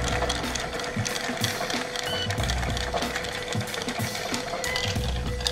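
A Scotch whisky cocktail with Benedictine is stirred in a glass, making a fast, steady, rhythmic clatter that continues without a break at close range.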